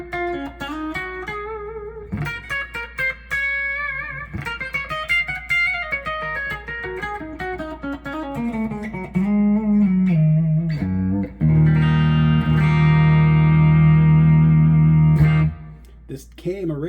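An Epiphone Ghost Horse electric guitar played through its bridge pickup rings out with distorted, effects-laden single notes and bends, building to a sustained loud chord near the end, with brief speech between phrases.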